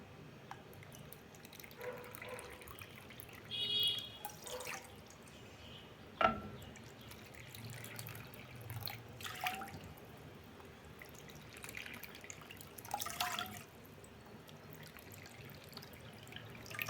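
Water splashes and trickles into a cooking pot in short bursts while making idiyappam with rice flour, with drips and gentle pouring sounds close by and no talking.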